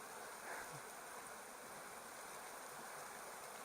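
Small rapids and little waterfalls on a stream at Slaley/Healey Mill rush in a steady, even wash of water noise, fairly faint and continuous with no voices.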